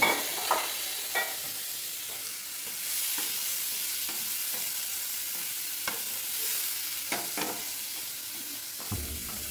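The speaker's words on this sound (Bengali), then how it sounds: "পেঁয়াজটা যদি একটু হালকা ভাজা ভাজা হয়" Chopped onion frying lightly in a pan, a soft continuous sizzle broken by periodic stirring scrapes and taps, close and fairly quiet with no talk.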